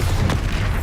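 A Bombarda spell explosion in Hogwarts Legacy, a loud, deep booming blast with heavy low rumble filling the short moment, no talking.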